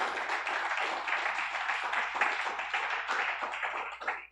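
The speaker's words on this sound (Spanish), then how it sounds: "Dele fuerte el aplauso al Señor." A church congregation claps vigorously together, a dense, sustained burst of applause from many hands that fills the whole space and carries on throughout.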